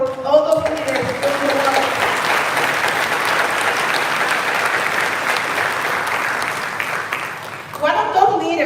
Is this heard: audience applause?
yes